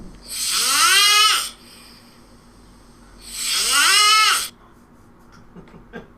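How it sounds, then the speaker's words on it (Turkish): Two long, loud snores with a rattling, rising quality, separated by a quiet pause, then faint breathing. "Böyle bir horlama bu, bu ne ya? Böyle korkunç."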